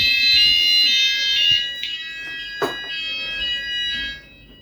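A house fire alarm system sounds during a test, a loud, steady electronic tone with rising and falling pulses filling the room, with a brief knock partway through and no talk.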